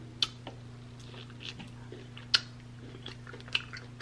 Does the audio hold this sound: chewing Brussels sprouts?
yes